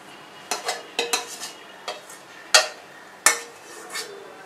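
A spatula scrapes and clinks against a wide kadai while chicken and egg fried rice is stirred, giving a string of sharp, close metallic knocks at an uneven rhythm over a faint background hiss.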